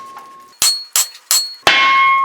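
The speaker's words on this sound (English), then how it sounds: "now we're just going to drop it against the ground and let it hammer" A shovel head being seated onto its wooden handle by dropping the tool against the ground: four sharp, loud knocking impacts in a steady rhythm, each with a brief metallic ring, the last one trailing into a sustained ringing tone.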